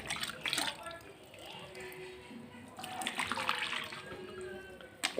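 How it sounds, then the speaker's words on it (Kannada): Homemade grape wine pours into a container with a trickling, splashing liquid sound, loudest in short bursts near the start and end. "ಇದಕ್ಕೆ ನಾನು ಮತ್ತೆ ವೈನ್ನ ಹಾಕೋತಾ ಇದ್ದೀನಿ."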